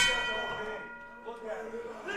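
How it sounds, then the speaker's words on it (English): A boxing ring bell rings once with a bright, sustained metallic tone that slowly decays, followed by a softer clang, while voices talk underneath. "Are they going to ring the bell?"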